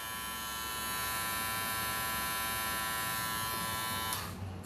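A Wahl Detailer Cordless Li hair trimmer runs with a steady, smooth electric buzz, close and even for several seconds before switching off abruptly at the end.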